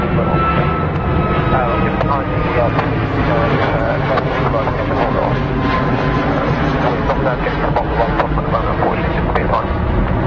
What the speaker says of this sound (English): Boeing's brand new variant of the 737. Check for different engine noise.